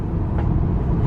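Turbocharged Ford Falcon FG engine with a Turboside intake, a deep continuous rumble at revs held steady and close, loud throughout the brief moment with no voices.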